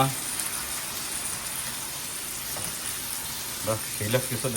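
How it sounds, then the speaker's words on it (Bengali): Continuous hiss and sizzle of beef brain frying in a hot pan, fairly close, with a few louder clatters near the end. "মাত্র গরুর মগজ দিয়ে দিল ভুনা করার জন্য"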